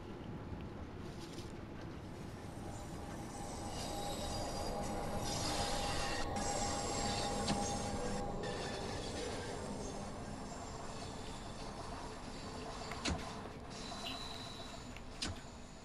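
Bakerloo line train in Train Sim World 4 slowing to a stop at Marylebone station: a steady, moderately loud rumble of wheels and motor noise with faint whine and a few brief clunks near the end, no talk.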